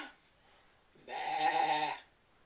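One sheep gives a single close bleat lasting about a second, wavering and nasal, against quiet background.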